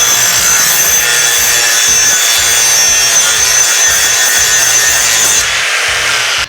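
A DeWalt 407 cordless angle grinder grinds into wood, a loud, steady high-pitched abrasive roar with a pulsing low rub that runs continuously for about six seconds before cutting off.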